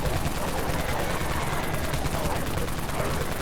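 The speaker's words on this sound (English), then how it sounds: "Switch to the Unlimited Wraith Cannon again." Unlimited Wraith Cannon in the Dead Frontier game firing a continuous, dense stream of rapid blasts, loud and unbroken for the whole stretch, with no pause between shots.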